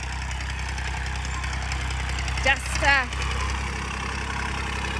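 A small vineyard tractor engine idles nearby with a steady low rumble that runs the whole time, and someone speaks briefly over it.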